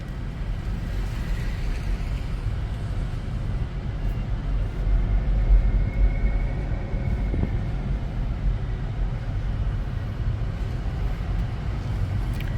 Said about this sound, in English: the little light whir that it has to make by law when it's under 20 miles an hour for pedestrian safety